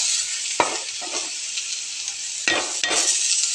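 Tomato frying in a pan for mushroom curry, a constant bright sizzle with a few sharp stirring scrapes and clinks of a spoon against the pan, close and clear.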